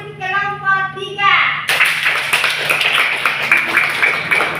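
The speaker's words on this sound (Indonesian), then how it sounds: "Tepuk tangan untuk kelompok 3." A school class clapping for a group that has just presented in a lesson, preceded by a voice speaking, then brisk, close, ragged clapping from many children that continues to the end.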